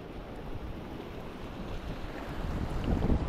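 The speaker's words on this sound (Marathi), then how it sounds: "वारा आता थोडा कमी आहे" Wind blowing outdoors during a fishing outing, a steady low rushing buffet against the microphone that swells slightly toward the end, with no talking.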